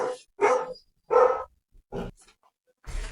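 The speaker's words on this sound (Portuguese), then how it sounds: "o cachorro começou a latir aqui" A dog barks indoors in four or five loud, close, sharp barks spaced about half a second apart, with no talking between them.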